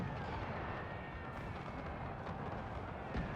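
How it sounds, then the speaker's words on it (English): Continuous dense rumble of cannon and artillery fire in a Napoleonic-era battle in the Era Mod of Napoleon: Total War, steady and booming throughout with a brief sharper burst near the end. "Cannon fire has displaced these guys."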